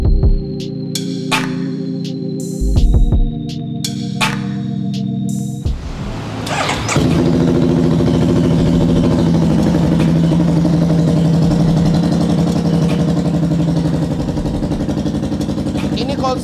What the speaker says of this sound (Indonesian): perbedaan suara knalpotnya yang sebelum kita bikin dan yang sekarang kita sudah bikin